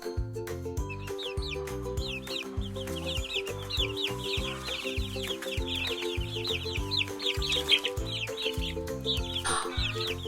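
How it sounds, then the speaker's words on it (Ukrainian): Hens cluck repeatedly with high chirping peeps scattered throughout, over a steady, rhythmic musical backing; no one speaks. "Мама курка каже ко-ко-ко, а курчатко каже пі-пі-пі"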